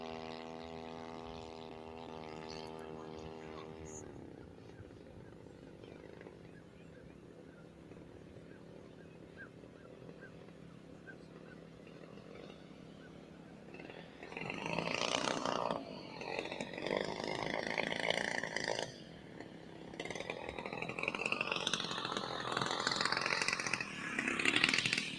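A Maxford AN-2 Antonov RC biplane with a four-blade prop runs its engine, a steady buzzing drone that swells louder and nearer in the second half as it passes in to land, with faint outdoor background.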